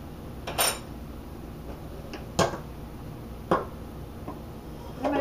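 Chocolate chiffon cake batter goes into a cake pan with a few scattered, sharp clinks and knocks of utensil against metal pan, spaced out over a quiet kitchen background without talk.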